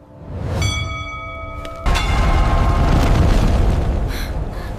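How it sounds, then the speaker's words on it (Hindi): A bell in a Hindi cartoon horror story rings by itself, one clear resonant strike with a long ringing decay, then a deep boom and rumbling swell that stays loud to the end. "ये घंटी अपने आप कैसे बज गई?"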